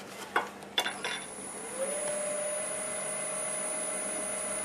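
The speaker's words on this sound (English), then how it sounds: "About 850 RPM using the mid-size carbide tool, the round one." A wood lathe starting up and spinning at about 850 RPM for turning with a mid-size round carbide cutter: a few sharp knocks, then a rising steady motor whine and high tone that hold evenly, fairly faint, with no talking.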